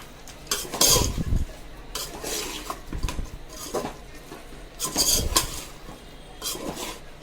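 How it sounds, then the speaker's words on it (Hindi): Spices, green chilies and other ingredients stirred in a pot over low gas for akhni pulao, with four or five scraping, clattering passes of a spoon against the metal and a faint sizzle underneath. "अब ये तमाम चीज़ों को अच्छे से मिक्स कर लेंगे।"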